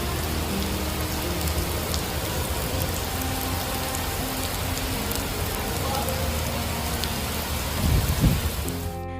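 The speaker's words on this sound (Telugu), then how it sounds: "క్లౌడ్ బరస్ట్ అవడంతోనే ఒక్కసారిగా భారీ వర్షం విరుచుకుపడినట్టుగా తెలుస్తోంది." Heavy rain pours steadily during flooding in Mecca, a dense close hiss of water on surfaces throughout, with a brief low rumble near the end.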